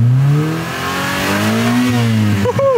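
An abandoned Honda Civic's D16 engine revs loudly on nitrous, its tone climbing and holding high before dropping back, then catching a few quick blips at the end.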